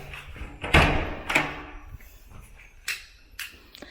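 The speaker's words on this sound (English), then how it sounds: "I'll just open the door, then you can see" An interior door in a two-bedroom house in the Philippines is opened, with a couple of thumps and clunks of the door and latch, followed by quieter knocks.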